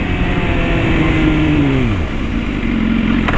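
A heavy motorcycle engine runs loud and close, its pitch sliding down as the bike slows to a stop before settling into a steady idle.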